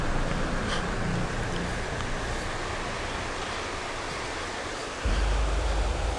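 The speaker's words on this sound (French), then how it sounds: "Je suis juste en face de la cascade, vous devriez d'ailleurs l'entendre par rapport au bruit." A waterfall roars steadily just ahead, heard from the top of a small hilltop, a dense continuous rush of water that stays loud and unbroken, with a low thump of handling or wind near the end.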